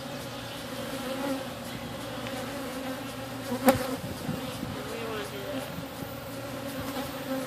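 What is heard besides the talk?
honeybees buzzing around a hive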